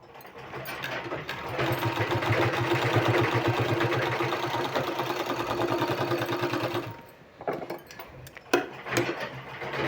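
A sewing machine stitching a decorative sleeve design into fabric runs in a fast, steady rattle for several seconds, then stops, leaving a few short clicks and handling noises.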